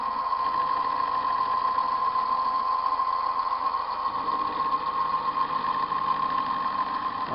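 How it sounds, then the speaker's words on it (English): Rotary table on a milling setup turning during cleanup cuts on profiles: a steady mechanical whir with a sustained tonal hum, continuous and fairly loud, no speech. "I'll start moving the rotary table now"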